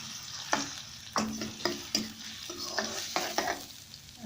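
Chopped medium-size onion goes into a hot pan for a mixed vegetable dish, sizzling steadily close up while a spoon stirs and scrapes in uneven strokes every half second or so; no speech.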